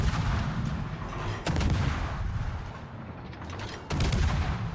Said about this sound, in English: Now I'm just gonna start farming them with guns for as long as we can here.